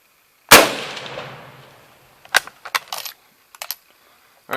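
An 1895 Chilean Mauser rifle fires surplus ammunition outdoors: one loud, sharp shot with a long decaying ring, followed by a few lighter metallic clicks and clacks of the bolt being worked.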